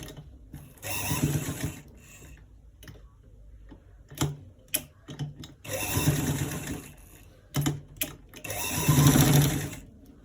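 A sewing machine stitches the shoulders of a roll collar in fast rattling runs, stopping and starting with short clicks and pauses between bursts, close and fairly quiet.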